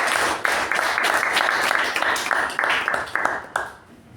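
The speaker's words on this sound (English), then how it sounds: "And let us all give Saket a huge round of applause." A meeting audience, likely a Toastmasters club, gives a speaker a round of applause: dense, lively clapping from a roomful of people that holds steady, then tapers off toward the end.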